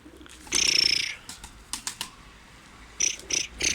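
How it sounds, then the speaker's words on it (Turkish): A cat's hissy, breathy vocalizations come in short bursts, close up, separated by quiet gaps and light clicks, near pigeons. "Kedi mi geldi?"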